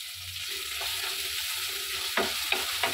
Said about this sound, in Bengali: তো লঙ্কা বাটা দিয়ে বেশ কিছুক্ষণ কষিয়ে নেব